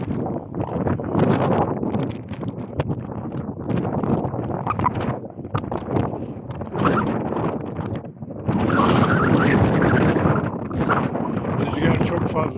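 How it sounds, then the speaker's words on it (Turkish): Strong wind on a mountain near the Mozara altar in the Latmos hills above Kapıkırı, roaring into the microphone in loud, buffeting gusts that swell and drop. "Rüzgar çok fazla."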